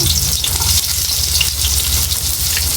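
Onion and garlic fry in hot oil in a pan, a loud, steady crackling sizzle that runs without pause and without talk.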